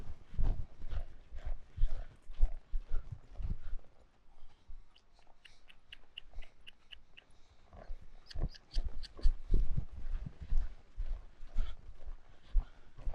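A horse lopes in a circle on a dirt training ground, its hooves giving rhythmic thuds and clip-clops at close range, fading briefly in the middle before picking up again, with no talking.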